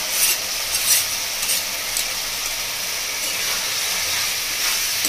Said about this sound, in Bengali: বন্ধুরা এবার দিয়ে দিচ্ছি আমি সেদ্ধ করে রাখা সবজিটা।